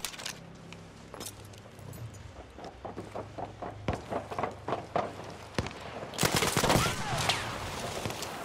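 Shotgun blasts ring out in the battle royale game Battlefield Firestorm, a series of sharp, loud shots spaced through the clip, building to a dense burst of fire near the end amid footsteps and clatter.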